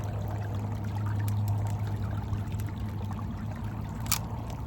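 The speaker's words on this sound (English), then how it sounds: "There goes my water flow changing again." Creek water flowing steadily during gold panning, a continuous close rushing wash with a low burbling undertone and a brief splashy burst near the end, no voices.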